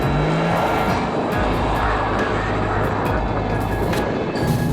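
A Mercedes-AMG C63 S Edition 1 pulling hard with its engine at high revs, making a dense, loud, steady roar with a deep rumbling drone running through the whole stretch.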